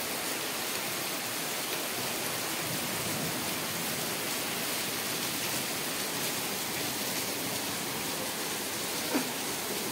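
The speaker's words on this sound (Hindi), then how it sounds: "उतने में इतनी तेज़ बारिश आई है कि मैं क्या बताऊं" Heavy rain in May–June weather, heard from a balcony as a steady, dense hiss of falling water that stays even and loud throughout, with no voices.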